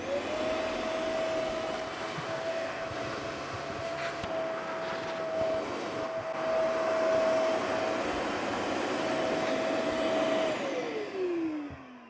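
A vacuum cleaner picks up wood dust in a woodworking session after sculpting a wooden seat with an angle grinder, its steady loud whine running throughout before the motor is switched off and winds down at the end.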